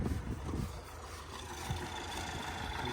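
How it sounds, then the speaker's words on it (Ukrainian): A tractor approaches across a rapeseed field for crop spraying, a low, quiet engine rumble that rises slightly in loudness as it draws nearer, heard alone without talk. "Тракторець вже під'їжджає."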